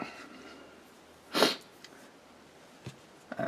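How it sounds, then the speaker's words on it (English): A single sharp human sneeze bursts out about midway, clearly louder than the quiet room tone, followed by a couple of faint sniffs and breaths. "Sorry, sneeze again."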